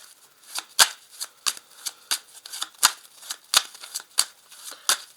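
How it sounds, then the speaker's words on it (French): Tarot cards are flipped over one by one, each turn a crisp papery snap, about a dozen in a steady, unhurried rhythm, close and alone without talk. "je vais retourner chaque carte ici"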